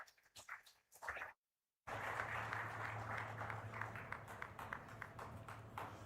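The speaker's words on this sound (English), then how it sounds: "a round of applause for His Excellency, Dr. Bharat Jagdeo." An audience at a formal inaugural session for a sustainability summit breaks into sustained applause, with dense clapping that goes on after a brief pause and a few scattered claps before it.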